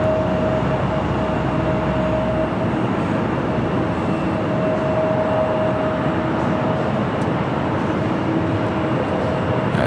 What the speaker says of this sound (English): China Airlines, the A350, about to touch down on the north side